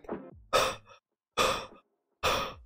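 A person imitates a big dog's heavy chest breathing, producing three loud, breathy, forceful exhalations in slow succession after a softer first breath, very close with silent pauses between.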